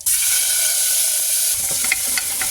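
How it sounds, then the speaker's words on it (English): Minced garlic and red pepper flakes sizzle loudly and steadily in a hot pan, a close, continuous hiss with a few soft stirring ticks near the end and no talking. "I'm going to go ahead and start sweating that off"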